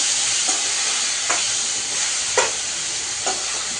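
Bottle gourd sizzles loudly in a hot pot of oil, with a steady frying hiss and four evenly spaced scraping strokes of a stirring spatula, and no voices.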